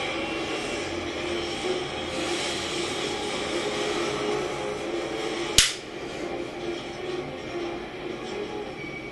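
A GAMO Compact .177 air pistol fires a single target shot, one sharp crack partway through against a steady, noisy background hum.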